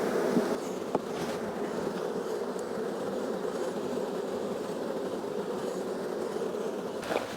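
Honeybees buzzing in a steady, close drone around an open hive frame during a hive inspection, continuous throughout with a couple of brief knocks.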